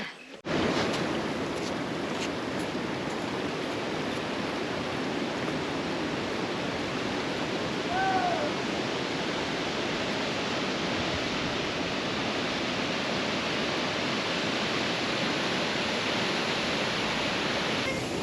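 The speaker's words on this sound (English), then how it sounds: "Can hear the rushing water. Obviously it's a waterfall." Rushing water from the waterfall at Bells Gorge off the Gibb River Road forms a steady, even roar from start to finish, with a brief faint bird call in the middle.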